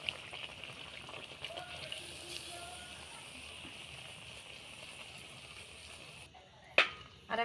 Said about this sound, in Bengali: তেলটা গরম হয়ে গেছে, এবার আমি কচুরি দিয়ে দিচ্ছি